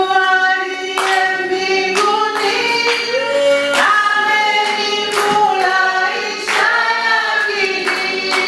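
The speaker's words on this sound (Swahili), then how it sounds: "Pige makofi napoimba tenzi namba 29." A church congregation at a Sunday service sings a hymn with rhythmic hand clapping, the voices carrying a steady melody while regular claps punctuate the beat across the whole stretch.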